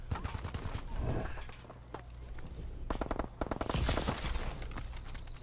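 Gunfire in Call of Duty: Advanced Warfare multiplayer, bursts of rapid automatic shots in clustered volleys with short gaps, loud and close, mixed with other game effects.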